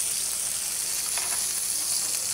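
Onions fry in oil with a steady, even sizzle and fine crackling hiss that holds at a constant level for a couple of seconds, with no voices.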